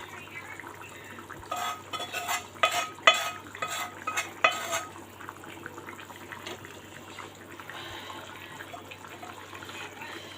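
Fried tengra fish go into a boiling curry in a pan, giving stirring and scraping clatter with watery bubbling, busiest in the middle and quieter toward the end.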